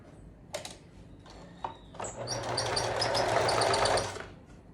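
A sewing machine stitches the rounded seam of a garment for a matching set, a few short starts then a steady close run of stitching for about two seconds before stopping.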